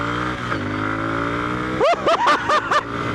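Moto Guzzi Griso motorcycle engine on a ride, droning steadily and then revving hard in a series of five quick rising blips, loud and close.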